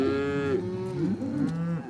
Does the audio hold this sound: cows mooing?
yes